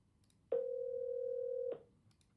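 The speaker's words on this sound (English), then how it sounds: "My phone will ring," A phone line from a predictive dialer giving a single steady tone lasting just over a second, clean and moderately loud against a faint background hum.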